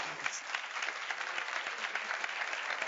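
A conference audience in Vitoria-Gasteiz applauds at a Urban Commerce 2025 dialogue session, a steady, fairly faint wash of many hands clapping that lasts throughout, with no talking.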